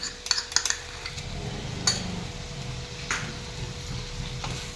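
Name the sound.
ginger garlic paste added to pan for chicken curry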